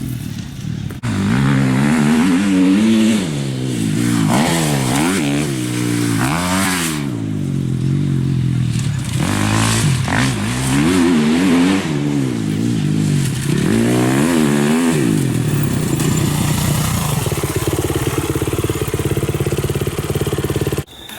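Dirt bike on a track, its engine rising and falling through repeated throttle revs and gear changes, loud and fairly close, then settling into a lower steady drone near the end.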